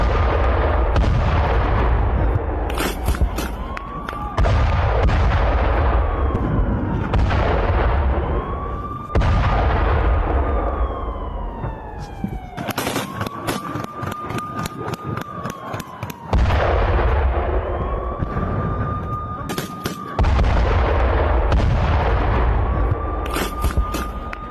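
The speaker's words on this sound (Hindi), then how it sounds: "यूक्रेनी ठिकानों पर एक के बाद एक कई धमाके हुए हैं।" Heavy booming missile explosions go off one after another, with several loud detonations about every few seconds and rumbling echoes in between.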